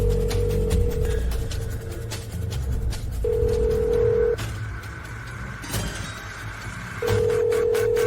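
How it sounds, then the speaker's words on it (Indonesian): A telephone call being dialed to a line that turns out busy: steady electronic tone bursts repeat at intervals over a busy, noisy background. "Aku telepon."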